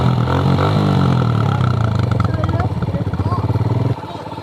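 Dirt bike engine idling and revving under a short female rider as she works the clutch, a steady close mid-pitched drone that softens near the end, with talk over it.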